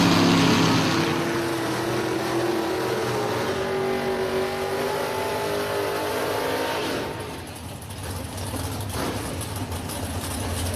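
A drag race between a Chevrolet Camaro and a 1969 Ford Mustang, loud engines roaring down the strip with a rising pitch, then fading into the distance with no talk.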